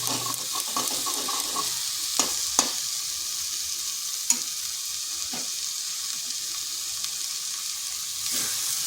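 Egg frying with okra and potato in a pan, a continuous close sizzle with scattered scraping stirs and a few sharp utensil knocks against the pan.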